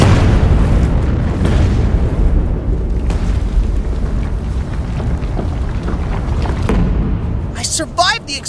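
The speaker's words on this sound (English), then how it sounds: "I survived the explosion" A cartoon explosion booms out, a big deep blast followed by a long rumbling roar with scattered crackles and debris bursts, closing with a short bright warbling effect.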